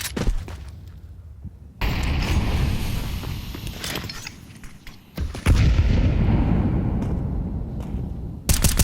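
Gunfire in a Counter-Strike match, a wallbang shot through cover, loud sharp gun reports and bursts against a noisy in-game backdrop, with short quiet gaps between sustained stretches of shooting.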